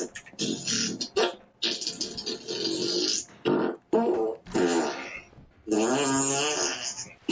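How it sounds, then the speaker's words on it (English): A voice bot plays fart sound effects in quick succession, a string of short, buzzy, sputtering bursts separated by brief gaps, loud and close with no talk. "20 farts coming your way."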